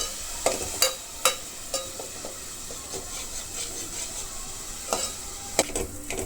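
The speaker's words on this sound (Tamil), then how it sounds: "ஒரு பாத்திரத்தில் எண்ணெய் ஊற்றி எண்ணெய் சூடானதும் அரைச்சி வச்சுருக்க வெங்காயத்தை சேர்த்து நல்லா பொன்னிறமாக ஒதுக்கிக்கணும்" Ground onion paste frying in hot oil in a pan for a mutton gravy, giving a steady close sizzle broken by repeated scraping stirs of a spoon against the pan.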